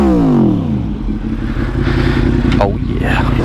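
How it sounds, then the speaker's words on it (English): A loud motorcycle exhaust revs up close. A rev sweeps down at the start, then a throaty, rumbling idle pulses steadily with a brief blip near the end. "This bike sounds amazing."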